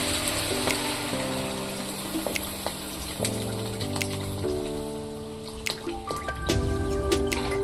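Water trickles and drips into a pan of red lentil fritter curry while cooking, light splashy patter over steady background music.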